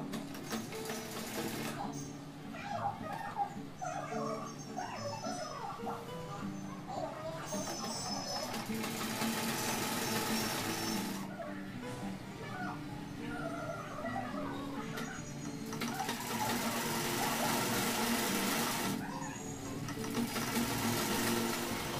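Sewing machine stitching the bottom hem of a kurti, a continuous close whirring run with brief dips and restarts, steady and fairly loud.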